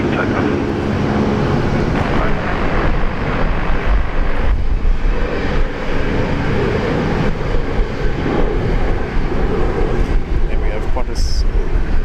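An airliner takes off from runway 19 right at Brisbane, its loud, broadband jet roar filling the air steadily and continuously at close range.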